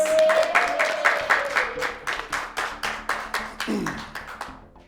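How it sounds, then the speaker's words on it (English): A small group gives a round of applause for a third-place finisher in a school quiz show, rhythmic clapping in quick regular bursts, close and moderately loud, fading at the end, with a brief tone underneath. "Let's give her a round of applause."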